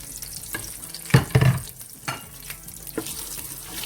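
A spice mixture for keema with peas is stirred and cooked in a pan, producing a wet sizzle with several sharp scraping and clattering strokes of the spoon, fairly close and with no talking.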